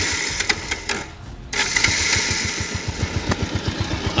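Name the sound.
Bajaj Pulsar 150 motorcycle engine idling after start, tappet noise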